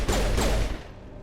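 A single loud, booming gunshot from the video game Mass Effect, with a sharp close crack followed by a short rumbling tail.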